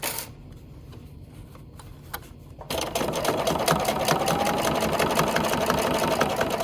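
A sewing machine stitches quilt binding, first a quiet stretch with faint handling clicks, then a fast, steady mechanical whir of rapid needle strokes running loud and close to the end.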